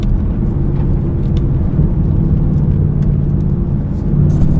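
A 10-speed car with paddle shifters is being shifted up and down, giving a steady low engine rumble and whir throughout with slight changes in pitch, close and fairly loud, with no one talking.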